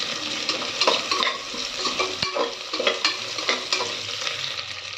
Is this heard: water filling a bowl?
no